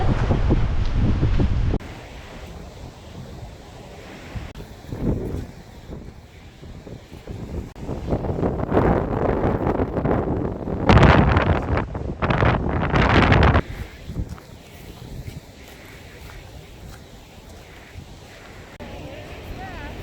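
Strong outdoor wind buffets the microphone in San Francisco, roaring in loud gusts with rushing air that swells and fades, while people talk intermittently over it.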